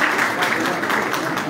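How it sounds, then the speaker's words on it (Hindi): A crowd at a pigeon club prize-giving ceremony in Haripur claps for the host, brief dense applause mixed with some murmuring voices. "सुहेल साहब के लिए भरपूर तालियां दी"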